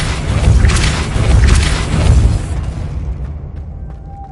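A Depulso spell blast in Hogwarts Legacy lands as a loud, deep boom with a rumbling burst that decays over about two seconds into a quieter tail and faint ringing.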